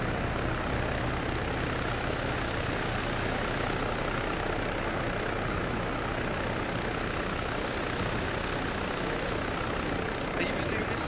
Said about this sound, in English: Yeah, you can get the helicopter.